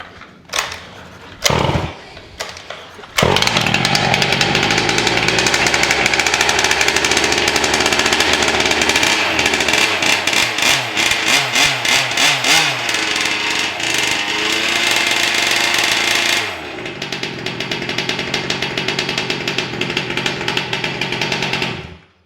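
A small 2-stroke gas engine for an RC car is pulled a few times with brief sputters, then fires and runs loud and close with a harsh, buzzy rattle, revving and settling to a lower idle before cutting off.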